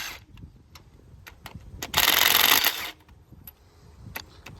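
A Ryobi 3/8 brushless power tool is used during repair of a stuck lift on a Ford 2600 tractor: one short whirring burst of about a second stands out amid scattered metallic clinks and light clatter.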